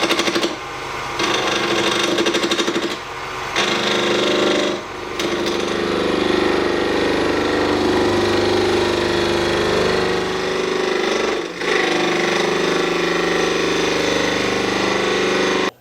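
A lathe turns a brick against high-speed steel turning tools, giving a loud, continuous grinding whine with a strong steady hum, broken by a few brief dips as the cut changes.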